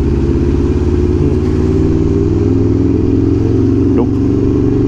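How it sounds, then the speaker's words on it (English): A 2017 Aprilia Tuono V4 1100 Factory motorcycle cruising on a freeway, its loud V4 engine droning steadily close up with a constant rumble and rushing wind, and a brief pitch sweep near the end. "I am bringing my 2017 Aprilia Tuono V4 1100 factory to share with others"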